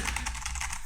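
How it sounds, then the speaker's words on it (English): Someone typing on a computer keyboard while looking something up online, steady rapid keystrokes heard faintly in the background during a podcast conversation. "Just typing away."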